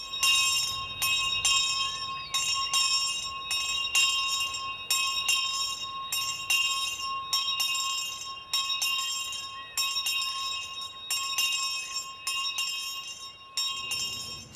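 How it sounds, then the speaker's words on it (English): A bell is rung loudly and repeatedly in a garden beside a house, bright metallic strikes ringing out in a steady rhythm over about fourteen seconds, close and clear with no talking. "rang the bell loudly to call attention"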